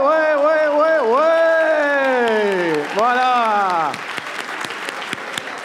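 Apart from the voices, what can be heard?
audience applause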